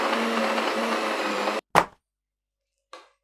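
Mashed potato and milk whirring in a blender, a loud steady drone that cuts off abruptly, followed by two short separate pulses of the motor.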